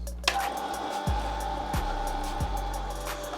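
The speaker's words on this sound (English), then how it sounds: "So let me start the machine and see if it works." A Kuvings Auto 6 cold press juicer starts up and runs with a steady motor whine, broken by a few low thumping pulses as the mechanism turns, close by with no talk.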